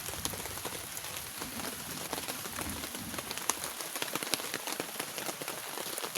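Steady rain pattering on a tent at a hilltop campsite at Splendor Hills, a dense close hiss of drops with scattered louder taps, no voices.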